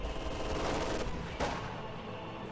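Rifle grenades and rapid gunfire in a World War II strategy game battle between Soviet and German forces, a dense close fusillade of overlapping shots with a louder blast, continuous and unbroken.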